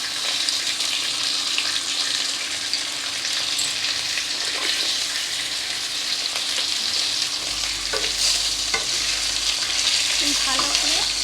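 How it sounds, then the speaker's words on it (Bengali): Cut beans sizzling steadily in a hot pan with a little salt, a loud continuous frying hiss with occasional stirring scrapes and no talking. "ভেজে দিচ্ছে। এটা একটু সামান্য ভাজা ভাজা হোক।"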